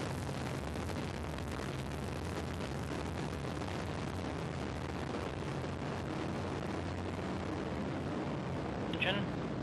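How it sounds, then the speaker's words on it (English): A Delta II 7320 rocket ignites and lifts off from Vandenberg, a continuous broad roaring rumble that holds steady at a distance, with a launch announcer talking over it. "We have ignition and liftoff of a Delta II rocket and WISE"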